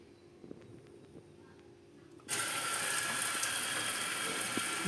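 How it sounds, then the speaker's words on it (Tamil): A brass sink faucet is opened partway through, and strong running water suddenly gushes out, a loud steady hiss that continues to the end after a quiet stretch with faint clicks. "நல்லா ஃபோர்ஸாக தண்ணி வருது"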